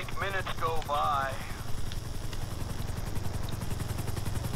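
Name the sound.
helicopter in a video game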